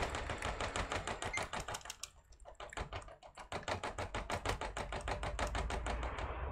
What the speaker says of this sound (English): I'll tap on two keyboards just to be safe.